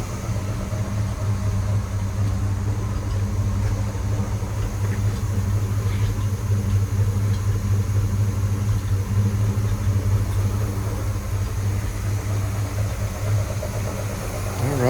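A big-block 1972 Chevrolet Nova V8 with a four-speed idles warm after a carburetor install, a steady, even, low rumble with a continuous mechanical hum, close and loud and unbroken from start to finish.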